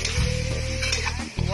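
Tomatoes sizzle in a small amount of oil in a pan while cabbage with spicy tuna is being cooked. The frying is loud, steady and close, with a brief dip near the end before the sizzle resumes.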